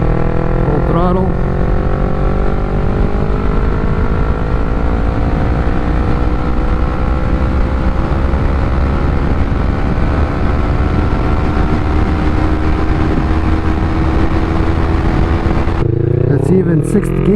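A Yamaha MT-03 motorcycle accelerates at full throttle in fifth gear, its engine note rising steadily and loudly from 40 to 80 for a long continuous roll-on before cutting off near the end.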